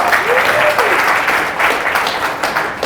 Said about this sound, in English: give yourself a round of applause for coming out here in the cold